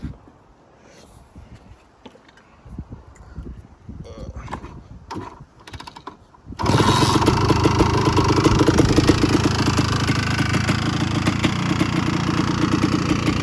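A motorcycle trike engine starts after some quiet mechanical handling noises, then settles into a loud, steady, fast cold idle that runs close to the microphone until the end.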